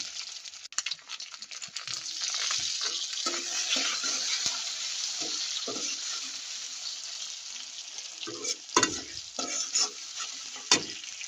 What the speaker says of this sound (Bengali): পেঁয়াজ দিয়ে হালকা একটু লবণ দিয়ে ভালো করে ভেজে নেব।